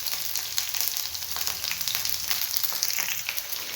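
Onions sizzling in a pan for mint chutney, a bright continuous frying hiss with occasional crackles and stirring taps, close and steady.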